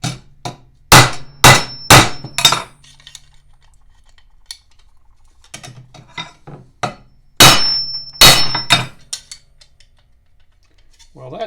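Hammer blows on a rivet through a mower deck latch plate, struck metal-on-metal: a quick burst of four sharp ringing clangs, a pause with faint taps, then another burst of four loud close hits.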